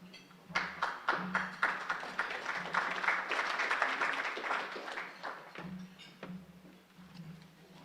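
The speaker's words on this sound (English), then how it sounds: "I heard at least a smattering of applause" Faint, scattered applause from a modest audience at an annual meeting, a few seconds of light clapping that swells and fades, with a low hum and occasional voice murmurs around it.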